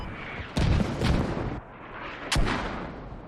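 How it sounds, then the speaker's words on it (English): Mortar fire in the Squad video game, two heavy booming impacts roughly two seconds apart with rumbling tails, loud and fairly close over a steady background with no talking. "I think they are starting to mortar it"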